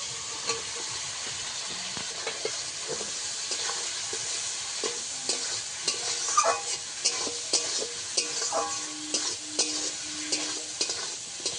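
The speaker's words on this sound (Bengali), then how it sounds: "মশলার মধ্যে আলু কিছুক্ষণ একটু ভেজে নিয়েছি।" Potato pieces fry in oil with ground cumin and black mustard spice paste for a pompano fish curry, giving a steady close sizzle broken by frequent scraping stirs and light clinks, with no talk.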